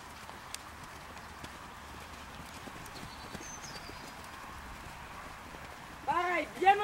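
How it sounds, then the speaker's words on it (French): Horse trotting in a hunter riding lesson, hooves clip-clopping in a steady rhythm at moderate distance over quiet background, with a brief louder noise near the end. "essaye de repasser au trot avant le tournant."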